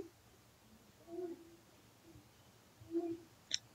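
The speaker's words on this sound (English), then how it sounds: "Owl sleeps in the day." An owl hoots twice, soft and low-pitched, in a quiet outdoor setting, each call a short separate note with a gap between them.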